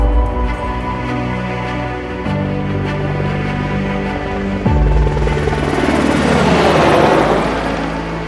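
A helicopter taking off: loud, close rotor and engine drone with steady harmonic tones that shift midway as the whine rises and the blade noise swells into a broad roar, no talking.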